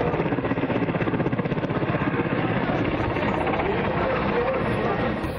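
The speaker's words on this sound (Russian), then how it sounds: "На радость им в небе и наши вертолеты." Helicopters fly over a city during an air show near a Millennium bridge, their steady rotor thump and engine drone loud and continuous throughout, with no voices.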